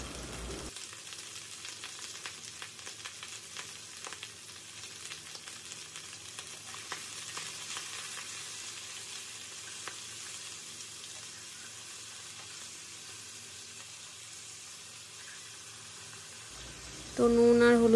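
Vegetables and a fish head fry in a pan with a continuous, even hissing sizzle that holds steady for a long stretch before a brief, different sound cuts in at the very end.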